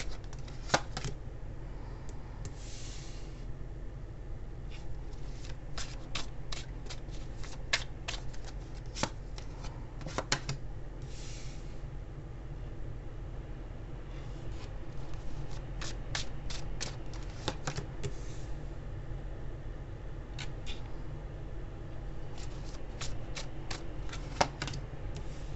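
A Chinese tarot card deck being shuffled: crisp riffles and card slaps come in irregular bursts over a soft steady background hum, close and clear.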